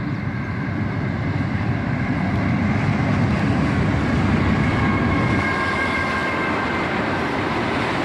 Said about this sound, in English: this CSX Autorack train came across the bridge